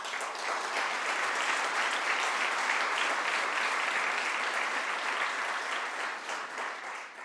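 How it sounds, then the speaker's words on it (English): Sustained applause from an audience at a State of the City address in St. Catharines, a dense, steady clapping that holds for several seconds before tapering slightly at the end. "That applause may have been less than genuine because Walter started it"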